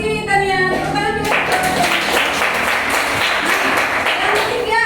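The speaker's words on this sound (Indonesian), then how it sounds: "Tepuk tangan dulu." A classroom of students breaks into brisk, close hand clapping after a teacher's call, a loud burst of rapid claps that fills the room, with a voice briefly audible at the start and chatter underneath.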